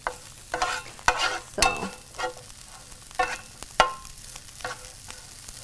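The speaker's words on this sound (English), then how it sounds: "I will go ahead and add our broccoli. And we will just go ahead and stir fry it a little bit." Broccoli stir fried in a hot pan with onion for an Italian pasta dish, heard as a soft steady sizzle broken by repeated scraping and clattering stirs, close by, with no talk.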